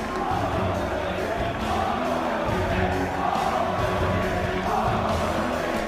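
A packed arena crowd at a London Call of Duty esports league event reacts after a match win, a dense roar of cheering, yelling and whooping swelling and holding steady throughout.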